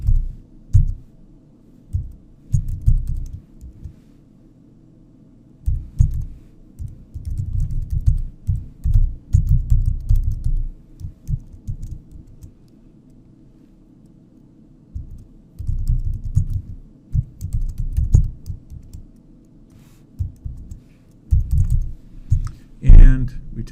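A computer keyboard is typed on in bursts of quick, close key clicks, separated by quiet pauses, while someone programs in Python.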